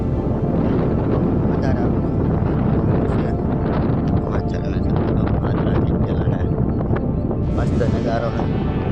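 Strong wind blowing across a tall cotton field, loud rumbling gusts buffeting the microphone continuously, with faint rustling and occasional brief crackles through the roar.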